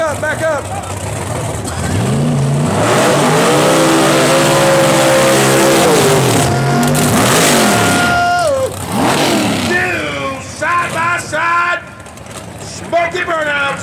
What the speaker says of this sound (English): Smoky burnout